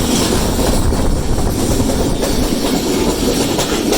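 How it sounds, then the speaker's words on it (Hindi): Container train hauled by a GU40 locomotive passes close by on the line near Lundu station, a loud continuous rumble with rhythmic clickety-clack from the wagons. "GU40 के साथ कंटेनर ट्रेन"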